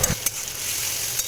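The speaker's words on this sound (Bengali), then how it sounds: "আর এই রসুনটাকে ততক্ষণ ভাজবো যতক্ষণ কিনা এই রসুনের কাঁচা গন্ধটা চলে যায়" Garlic paste sizzles and spits in a hot pan while being fried for mutton fat ghugni, a steady close hiss with a few sharper crackles and a stirring scrape, no voices.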